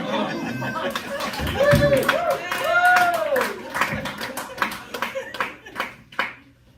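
Comedy show audience clapping and laughing at a stand-up competition, a dense burst of applause with chuckles and a voice rising over it, then thinning into scattered claps that fade out.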